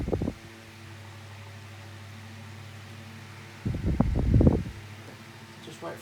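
A Tesco DF96 9-inch desk fan runs oscillating, giving a steady low motor hum with a faint airy hiss, close by, and brief rustling bursts where air buffets the microphone and a ribbon; a voice speaks briefly.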